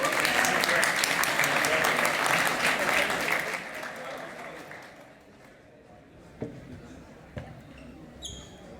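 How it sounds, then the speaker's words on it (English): A summit audience claps to welcome panel members onto the stage, strong full applause for about four seconds that fades away, leaving room noise with a few scattered knocks and thumps. "Give them an applause."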